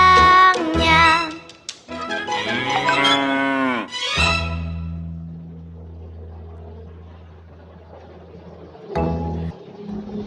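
Cows mooing inside their barn, a long low drawn-out moo rising and falling, then a sustained deep bellow that fades, followed by a shorter call near the end, loud and close with no talking.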